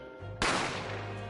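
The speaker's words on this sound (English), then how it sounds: "I didn't have time to think about where the sound of the gunshot had come from." A single sharp gunshot from The Great Ace Attorney video game cracks out loud and close, a sudden broadband blast that decays over about a second against a steady low hum.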